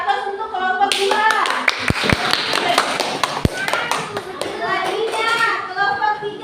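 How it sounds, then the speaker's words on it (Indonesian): Schoolchildren in a classroom clap for a group after a science lesson on human breathing, a burst of many small hands with a few sharp taps and thumps, children's voices chattering underneath. "Beri aplaus untuk kelompok 2."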